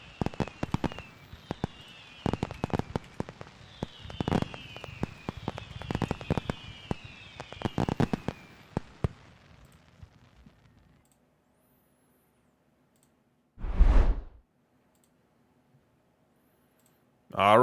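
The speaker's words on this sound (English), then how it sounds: "Some road fireworks for the Schens." Fireworks crackle and pop in rapid bursts during a baseball video game celebration for the road team, a dense run of sharp clicks and bangs over about ten seconds, then quiet with a single late thump; a voice talks over part of it.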